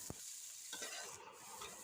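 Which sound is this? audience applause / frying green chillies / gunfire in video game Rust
frying green chillies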